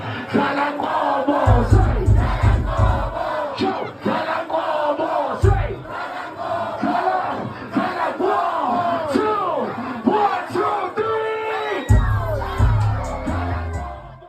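A crowd at a music session roars and cheers loudly and continuously, with whoops and shouts rising over a thumping low beat that surges at moments.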